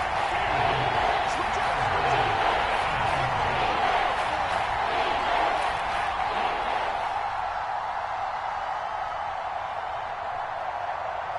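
Stadium crowd roaring steadily in a PS4 American football video game, a broad wash of cheering that holds loud for most of the stretch and eases slightly near the end.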